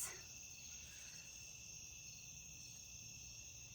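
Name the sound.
crickets chirping at night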